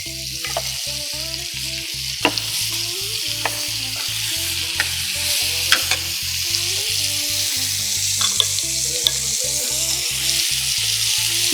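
Mutton burger patty coated in lots of pepper frying in butter, a steady close sizzle with scattered pops and spatter, over a pulsing rhythmic beat in the background.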